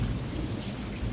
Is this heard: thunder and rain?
yes